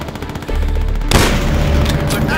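Call of Duty: World at War gunfire erupts suddenly, a loud, close burst of rapid shots and a booming crack cutting through a quieter battlefield backdrop.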